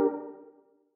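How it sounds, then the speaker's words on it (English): A single dry synth chord from a Brains preset in an Analog Lab bank, with no effects, strikes once and decays smoothly over about a second, clean and alone. "I pretty much use this Brains preset from one of his Analog Lab banks"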